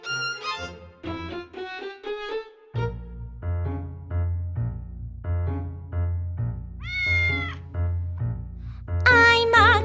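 An animated fairy-tale cat meows several times over a bouncy musical accompaniment with a steady plucked bass, the meows rising and falling in pitch and ending in a louder, higher cry.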